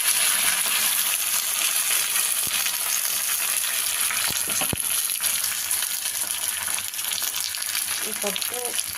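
Garlic and green chillies fry in a pan on a medium flame, giving a continuous dense crackling sizzle with a few sharp clicks from utensils, close and without talk.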